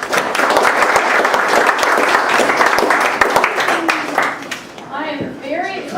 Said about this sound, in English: And I'd like you to give a round of applause to Miss Cindy Mallette.